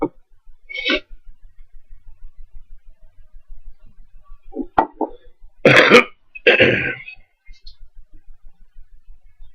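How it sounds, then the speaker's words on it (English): Scattered throat sounds from a smoker with a lingering cough: a few short clears and grunts, then two louder rough coughs near the middle, close and alone against a quiet room. "Excuse me, I've had a cough for a couple of days."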